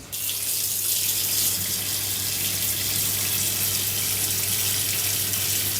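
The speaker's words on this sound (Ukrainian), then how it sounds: "Гарячу воду відкриваю." Hot water gushes steadily from a tap, a loud continuous hiss that starts abruptly and holds without pause, with a faint low hum underneath.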